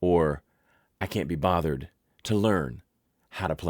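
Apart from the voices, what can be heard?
No everyday noise stands out behind the speech.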